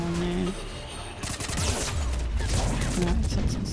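Gunfire in the sci-fi shooter Mass Effect 3, a burst of rapid shots and crashing impacts that grows louder after a brief lull, dense and close.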